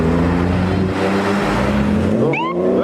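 A convoy of Porsche sports cars pulling away, engines droning loudly and steadily close by, with a rising rev near the end as one accelerates off.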